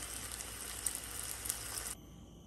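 Cabbage sizzles and crackles in a hot pan, a steady bright frying hiss with small pops that stops abruptly near the end, faint and close, with no talking.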